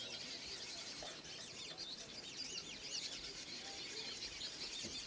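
Dense, continuous chorus of chattering weaver bird calls and squeaky chirps, many birds at once at a safari lodge in Kenya, steady and fairly loud with no pauses.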